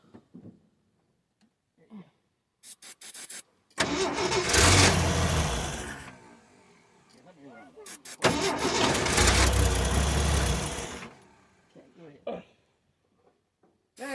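A 1979 Ford High Boy truck engine cranks and catches twice, each time roaring loudly for several seconds before dying down, with brief voices talking in the quiet gaps between the attempts.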